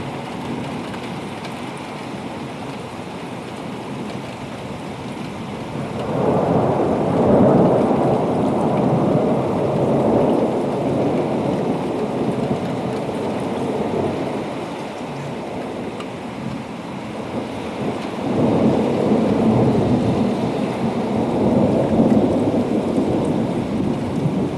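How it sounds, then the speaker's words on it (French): A violent summer thunderstorm over Sallanches in the Alps, with steady heavy rain and two long, loud rumbles of thunder rolling in and fading back into the downpour. "ça aurait été un bel orage"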